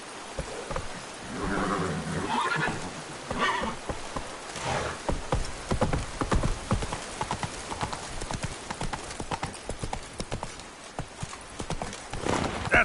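Horse hooves galloping in The Witcher 3 on PS5, a fast steady clip-clop rhythm running throughout with a neigh near the start, mid-loud over game ambience.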